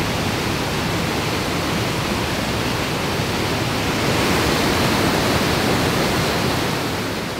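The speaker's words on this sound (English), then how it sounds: "a picturesque turbulent waterfall that races downhill for 160 feet in a sloped narrow channel carved in granite" Crystal Falls on the Lake Superior Circle Tour, a medium-sized turbulent waterfall racing 160 feet down a sloped, narrow granite channel, gives a loud, dense, unbroken roar close by that swells slightly partway through.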